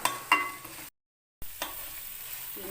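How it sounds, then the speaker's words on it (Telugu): Fenugreek seeds fry in oil for a tamarind curry, a bright hiss broken by stirring scrapes, with a brief dead-silent gap midway before the sizzle resumes. "ఇది ఫ్రై అవుతుంది కదా"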